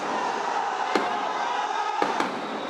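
Police grenades go off during protest clashes in the Karwan Bazar–Bangla Motor area, three sharp, fairly distant bangs (one alone, then two close together) over a constant roar of crowd noise.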